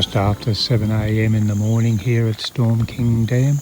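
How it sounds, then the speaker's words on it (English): Frogs chirp at Storm King Dam near Stanthorpe in the Granite Belt just after 7 a.m. The steady, faint high chirping runs beneath someone talking close up throughout. "Listen carefully and you can hear the frogs chirping away"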